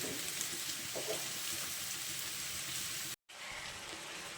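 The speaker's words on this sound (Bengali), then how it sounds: "আলু কাঁঠালের বীজ কিছুক্ষণ ভেজে নেওয়ার পর এখন আমি কেটে রাখা টমেটোটা দিয়ে দিচ্ছি" Potatoes and jackfruit seeds fry in a pan with chopped tomato just added, giving a soft, continuous sizzle that briefly cuts out near the end.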